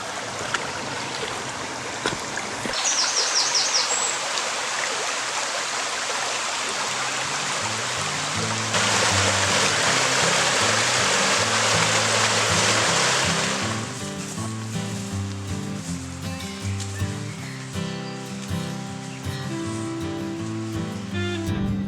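Steady rush of river water pouring over a weir at the old Talargoch lead mine, a continuous broadband roar that swells louder midway and then eases into a softer flowing wash, with no voices.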